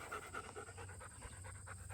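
A dog pants rapidly and steadily after a session at the dog park, the quick breaths close and continuous with no talking.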